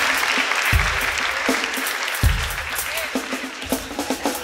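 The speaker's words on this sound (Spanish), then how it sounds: "Un aplauso para todos ellos" An audience claps at a live evening show in Arequipa, a steady wash of close applause with a few low thumps running through it.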